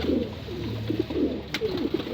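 Racing pigeons coo softly and repeatedly at close range, low burbling calls in a steady rhythm over a quiet background hum, with one brief sharp click partway through.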